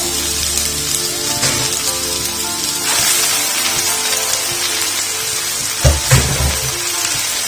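Mee sua noodles hitting a pan of cooked vegetables set off a steady, close sizzle, with a few louder clatters and stirring bursts near the end.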